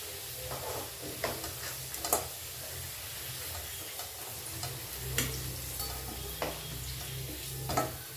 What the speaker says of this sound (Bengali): আলু এখানে গোল্ডেন করে একদম ভেজে নিয়েছি, এবার আলুটা আমি নামিয়ে নিচ্ছি একটা পাত্রে।